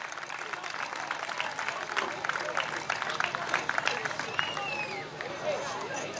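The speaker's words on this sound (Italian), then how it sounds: "Pietro Rapini, quindi volevo fare un applauso per favore" A crowd applauds at a town summer festival, a steady, moderately loud round of clapping from many people with some cheering and babble mixed in throughout.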